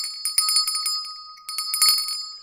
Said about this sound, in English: I forgot to ring the bell because I was dancing and doing other stuff. Here's the bell.